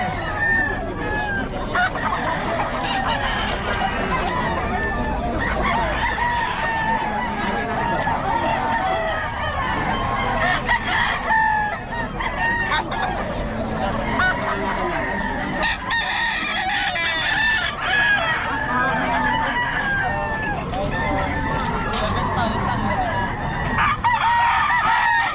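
Many quality fighting roosters at Bocaue crow and cluck continuously, loud and close, overlapping in a busy chorus while people talk in the background.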